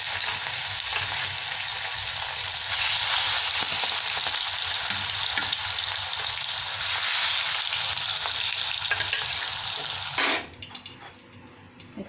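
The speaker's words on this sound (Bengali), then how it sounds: "গ্যাসটা এবার কমিয়ে দিচ্ছি আর অল্প অল্প করে মাছগুলো ভেজে নিচ্ছি ঢাকা দিয়ে দিয়ে।" Aar fish pieces frying in oil in a covered pan over lowered gas, a loud continuous sizzle that cuts out sharply near the end, leaving quieter rustling.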